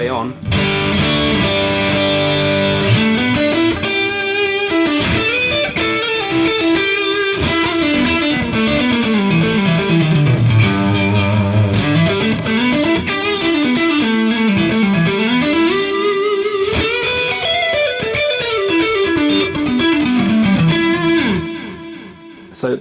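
Distorted electric guitar runs through a Kemper modeler with the space output fully on, so the phrases of sustained, bending notes sound roomy and spacious, and they play for over twenty seconds without any talking.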